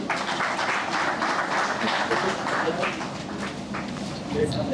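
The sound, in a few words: audience applause at convention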